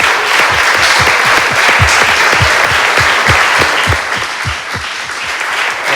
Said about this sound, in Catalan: Un aplaudiment per tots.